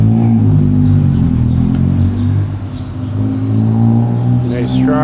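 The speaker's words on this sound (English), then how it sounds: "Tuk tuk." A tuk tuk on a hot Bangkok street, its engine rumbling loudly and steadily nearby amid traffic, with brief voices audible.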